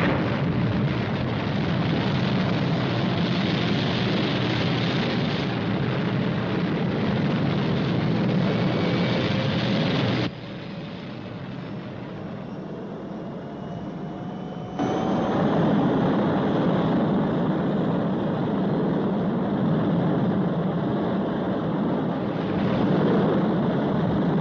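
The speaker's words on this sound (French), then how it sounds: "Tenez-vous prêt au décollage?" A cartoon spacecraft lifts off with a loud, steady roaring rumble and a faint rising whine. The roar drops sharply for a few seconds midway, then surges back at full strength.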